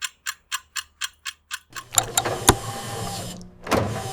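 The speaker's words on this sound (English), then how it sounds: "Press the blue button for lifting the car." A vehicle lift in a garage raises a muddy truck. A quick, even series of clicks comes first, then an electric motor whirs with a few sharp clunks before a final burst of mechanical noise.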